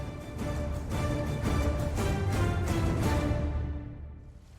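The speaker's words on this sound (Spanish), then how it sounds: "Este es el río Duerna, un río modesto y discreto de tan solo 54 kilómetros de longitud." Water of the Duerna, a small river in León in northern Spain, rushes in a steady broadband wash, close and constant before fading slightly at the end.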